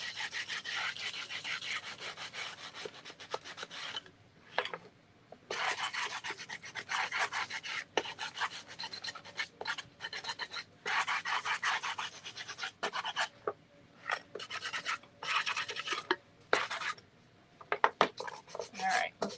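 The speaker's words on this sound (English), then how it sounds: "I'm just going all around the edges with my sander to remove some of that paint." A handheld sander scuffs the painted edges of a paper craft project, working in bursts of close, raspy friction broken by short pauses.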